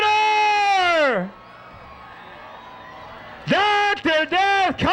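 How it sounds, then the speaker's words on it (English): A demolition derby grandstand crowd cheers and whoops at a distance, swelling and fading between loud bursts of someone shouting over a PA system. "Let him hear it. Cheer him on now."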